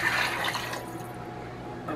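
Four cups of water poured into a second-largest Thyme & Table cooking pot, a steady splashing rush that is loudest at first and then settles into a lower, continuous trickle.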